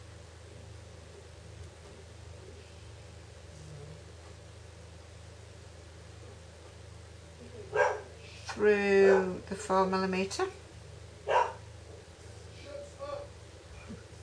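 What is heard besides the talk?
dog barking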